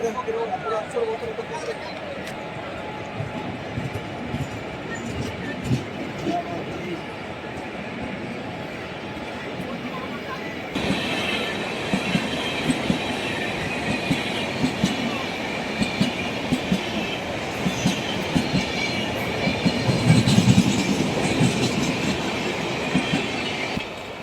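A train runs at platform two of Jhargram railway station with rumbling wheels and clickety-clack, growing louder midway, while someone talks over it.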